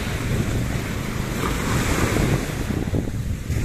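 Sea waves wash steadily onto a beach at Sea Line in Doha, Qatar, a continuous broadband surf roar with gusty wind buffeting the microphone and no voices.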